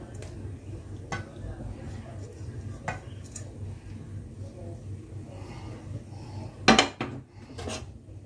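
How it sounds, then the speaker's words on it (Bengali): A spatula or spoon scrapes and clinks in a kadai while fish in oil-chili gravy is lifted out for serving, giving a few sharp metallic knocks over a low kitchen hum, with talk heard faintly. "এবার পরিবেশনের জন্য কড়াই থেকে ধীরে ধীরে তুলে নিচ্ছি।"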